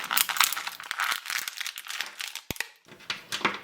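Close, continuous crinkling and crumpling of stiff plastic packaging as a Star Wars Retro Collection action figure is pulled free, with a few sharp snaps and tearing bursts along the way and a short quiet gap near the end.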